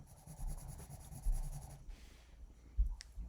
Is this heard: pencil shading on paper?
yes